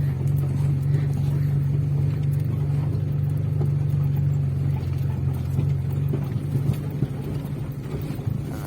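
A Lada Niva hauling sheep on a rural steppe road drones with a steady low engine rumble and constant road noise from inside the cabin, with a slight shift near the end.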